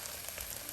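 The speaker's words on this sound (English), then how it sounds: "I am now gonna add the minced garlic in, and we're gonna cook it for 2 minutes" Minced garlic sizzles softly in a Staub La Cocotte pot with caramelized onions for French onion soup, a faint, steady crackling fry with no talk.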